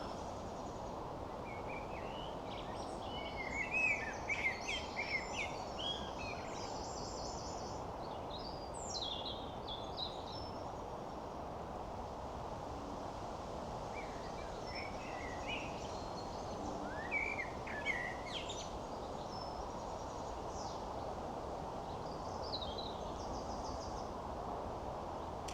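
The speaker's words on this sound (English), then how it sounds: "Just listen to the birds for 30 seconds." Scattered bird chirps and short song phrases at Cambusnethan Priory over a steady outdoor hiss, coming in brief bursts around a few moments, fairly faint and distant.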